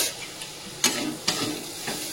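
Bitter gourd frying in a pan with turmeric, cumin, coriander and chili powder: a continuous close sizzle broken by a few sharp scraping stirs.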